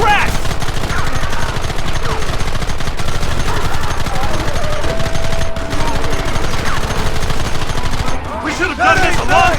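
Gunfire in the Red Dead Redemption video game: loud, dense volleys of rifle and pistol shots crackling almost without pause, with shouting voices mixed in near the end.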